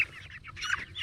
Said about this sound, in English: these are all roosters